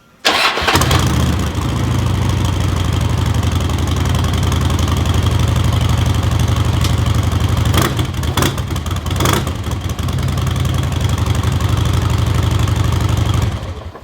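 A custom bagger motorcycle engine fires up and settles into a loud, steady idle close by, with a throbbing low rumble and a couple of brief louder blips partway through.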